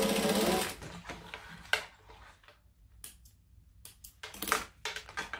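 A sewing machine stitches fabric an eighth of an inch to each side of a seam while sewing a bag. A short whirring run comes first, then scattered quiet clicks and taps from the machine and handling.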